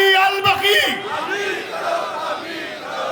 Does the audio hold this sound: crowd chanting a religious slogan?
yes